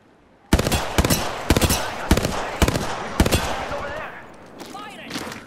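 Apex Legends gunfire rings out as a string of about six loud, sharp shots in quick rhythmic bursts, close up, followed by fainter tail sounds and brief voice chatter near the end.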